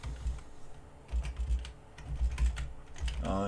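Typing on a computer keyboard, a quick irregular run of close, soft key clicks with a brief pause in the middle.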